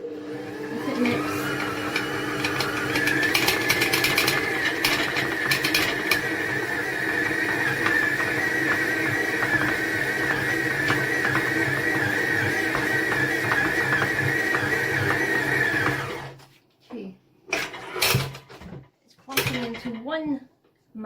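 A stand mixer kneads bread dough for quick tear-and-share rolls after the flour is added, giving a steady whirring motor drone with rhythmic thumps for about fifteen seconds before it stops and quiet kitchen sounds follow.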